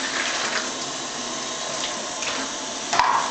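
Warm water pours steadily from a tap or jug for bread dough, a continuous mid-loud rushing stream with a small splash near the end.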